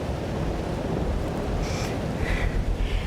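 A thunderstorm in the video game Life is Strange: Double Exposure, with a continuous wash of rain and deep rumbling, and a few brief brighter hissing bursts toward the end. No one speaks.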